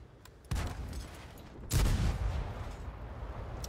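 A tank's main gun fires in World of Tanks, two heavy booming shots roughly a second apart, each with a deep low thump and a rolling tail of echo and rumble behind it.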